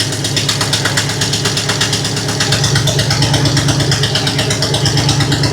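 A Ford 390 V8 engine running and burning off oil sprayed into its cylinders, a loud, steady, rhythmic idle with a slight lumpy pulse, close and continuous without talk.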